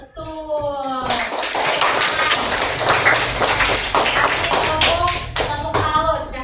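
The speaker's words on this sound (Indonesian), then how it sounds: "kasih tepuk salut aja" A classroom of children claps in a quick, irregular patter of many small hands, loud and close, with a voice briefly heard at the start.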